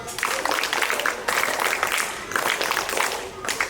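Children in a classroom clap their hands together in dense, lively bursts, swelling in roughly three waves with short dips between, fairly loud and close, with some voices mixed into the clatter.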